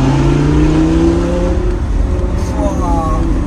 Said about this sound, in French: oh, ce bruit du V10.